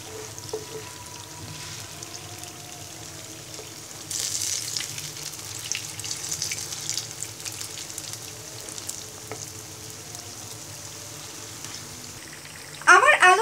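Batter-dipped potato chops frying in hot oil, a soft steady sizzle and bubbling that grows louder around the middle, ending in a brief sharp burst of crackle.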